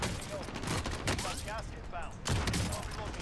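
Rapid bursts of gunfire from the video game Call of Duty Warzone, sharp repeated shots loud in the foreground, with speech-like game sounds and effects mixed in.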